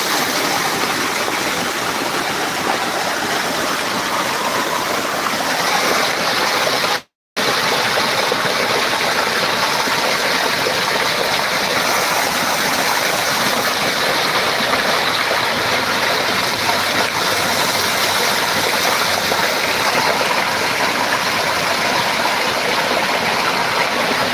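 Loud, steady roar of rushing, dirty floodwater during heavy rain in Africa, a dense continuous wash with no voices, broken only by a split-second dropout.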